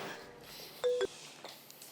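A telephone being dialed: a couple of short electronic dial-tone beeps near the middle, standing out over a quiet room.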